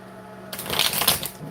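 Crisp riffling flutter of tarot cards being shuffled up close, a quick burst of papery slaps after a quiet start.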